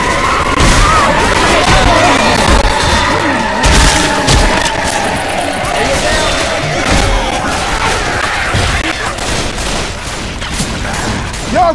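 Chaotic gunfire and booming blasts in the Left 4 Dead 2 campaign The Parish, with sustained shooting, explosions and crowd-like shouting packed densely throughout.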